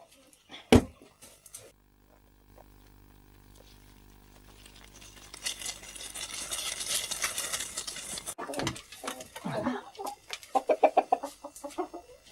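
Chickens cluck and chatter nearby, their calls growing busier and louder over a rustling background, with a sharp knock early on.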